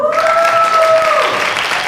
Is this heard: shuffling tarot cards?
no